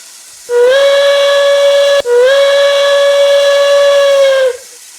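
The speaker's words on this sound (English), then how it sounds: "You can blow the whistles of the trains." A steam train whistle in a railway video game blows two long, loud harmonic blasts, the second longer than the first, with a breathy hiss at the start.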